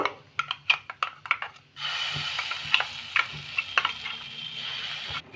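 Ground spice paste hits hot ghee with asafoetida for shahi paneer; a few sharp clinks come first, then a sudden loud, steady sizzle close by, with occasional spoon taps over it.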